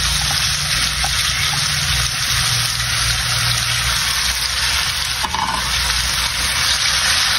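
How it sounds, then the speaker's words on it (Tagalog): Loud, steady sizzling of crab frying in hot oil, a continuous crackling hiss close up with no one speaking. "Ito pa dyan natin iprito yung alimasag."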